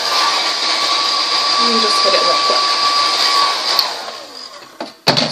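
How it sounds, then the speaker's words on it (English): Handheld blow dryer running on its lowest air and heat setting, a steady airy whir that holds close and fairly loud, with brief speech over it before a clatter near the end. "Now I'm going to take my blow dryer. I'll turn on my lowest air and heat setting."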